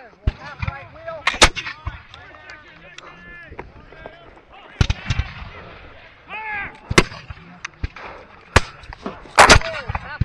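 Musket fire at the 2023 Hubbardton battle reenactment, an independent-fire volley: loud, sharp cracks go off at irregular intervals, one after another, amid shouted commands and voices.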